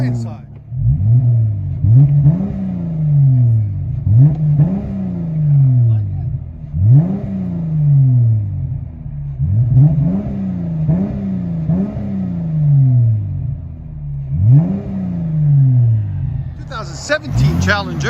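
A 2017 Dodge Challenger with a 3.6L V6 and Dynamax race bullets exhaust revs repeatedly from inside the cabin, each rev swelling into a deep droning rumble and falling away, with voices talking over it.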